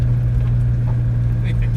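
A 4WD vehicle drives across a rural property, its engine a steady low drone running throughout.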